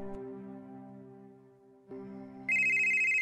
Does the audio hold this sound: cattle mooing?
no